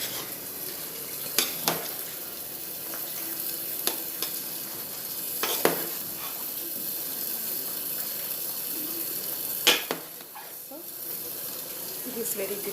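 A pot of chicken dum biryani being mixed, with a few sharp scrapes and knocks of a spoon against the pot over a faint hiss, close by and fairly quiet.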